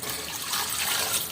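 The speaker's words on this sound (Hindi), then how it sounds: "सबसे पहले हम इसमें पानी डाल देंगे।" A glass of water pours steadily into a pot for chicken soup, a bright continuous splashing stream, close and unbroken.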